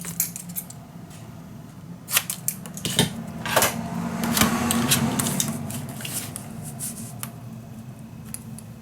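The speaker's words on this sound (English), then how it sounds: "Now I can cut this the correct size." Scissors snip through craft paper being trimmed to size for a handmade mini album, giving a series of crisp, close cutting strokes over a low steady hum.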